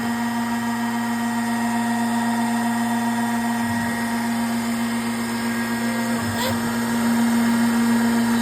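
A milling machine spindle runs at slowed speed while taking a very small cut on a catchall tray, giving a steady, close mechanical hum with fixed tones and a few faint knocks and clicks.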